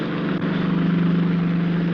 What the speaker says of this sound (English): I can hear engines